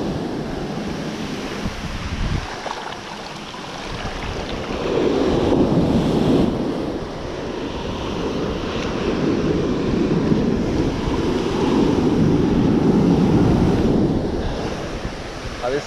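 Sea waves breaking on a beach at high tide, rolling in as loud, broad washes of surf with wind buffeting the microphone, swelling and fading in long surges, no voices.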